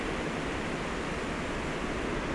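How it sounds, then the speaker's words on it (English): The Boulder River at Natural Bridge in Montana rushes steadily, a dense, even roar of flowing water close by with no pauses or voices. "We are on the Boulder River"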